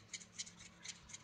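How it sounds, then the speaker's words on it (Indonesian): Quiet, rhythmic rasping strokes, about five short scrapes back and forth, of fine sandpaper rubbed on a small part inside an OPPO A3S phone close by. "kemudian kita menggunakan amplas halus ya"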